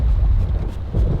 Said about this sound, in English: that is thunder right there, ladies and gentlemen